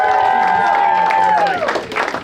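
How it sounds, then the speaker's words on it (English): A comedy-competition crowd applauds the comedians with dense, steady clapping, while drawn-out whoops and cheers ride on top, growing looser and more scattered near the end. "Can you clap it up for how good all of the comedians are?"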